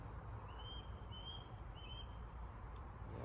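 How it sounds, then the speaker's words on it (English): A young hawk gives a few thin, high whistling calls, three or four short rising notes spaced across a steady low outdoor rumble, heard from some distance. "Like a hawk, a baby hawk?"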